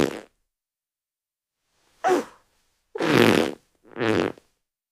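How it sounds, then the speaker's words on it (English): Several short, loud fart noises, four bursts spaced across a few seconds with silence between them, heard close and alone in a comedic product ad. "you're overreacting to his fart now"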